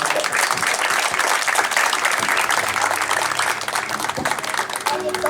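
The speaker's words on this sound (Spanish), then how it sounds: "Dale un fuerte aplauso al Señor." Loud, sustained applause fills a church service, dense clapping from a congregation continuing steadily throughout without a break.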